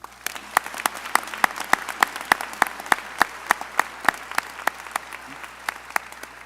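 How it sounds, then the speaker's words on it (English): Audience applause at a medical school hooding ceremony, steady clapping from a crowd with sharp individual claps standing out throughout, moderately distant in a large hall. "let's give him a round of applause"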